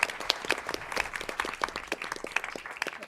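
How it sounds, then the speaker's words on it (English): A hearing audience at a 2019 cost trends hearing claps for the presenters. The individual claps are distinct and fairly sparse, carry on steadily throughout and stay moderately loud with no speech over them. "A round of applause for our presenters."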